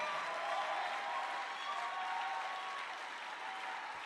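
A church congregation applauding, a dense, even wash of many hands clapping that holds steady throughout and fades only slightly toward the end, with no clear speech.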